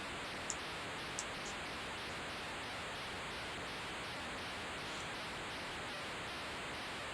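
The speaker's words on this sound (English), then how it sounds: "it's just a load of white noise basically. And the crowd noise is continuing here" Steady hiss of crowd noise in the Amstrad CPC game International Rugby Simulator, a continuous white-noise wash running alone throughout with a couple of faint high blips.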